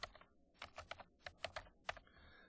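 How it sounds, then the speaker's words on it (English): Computer keyboard typing in an office, a quick irregular run of crisp key clicks heard alone and close, with short pauses between bursts. "I'm going to type in the last name."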